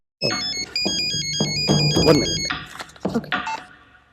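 A phone ringtone plays a bright, repeating electronic melody, loud and close, ringing steadily for several seconds with some background noise from a comedy scene.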